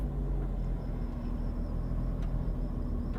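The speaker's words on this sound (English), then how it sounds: "That's the car down there that Lou was talking about." A car idles and rumbles low and steady in the game Mafia III, a constant engine drone heard alone at moderate, somewhat muffled level.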